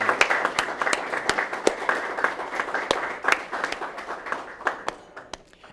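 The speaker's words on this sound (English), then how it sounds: "So let's have a round of applause to start with." A crowd applauding steadily, dense overlapping claps forming a continuous patter that gradually thins out toward the end.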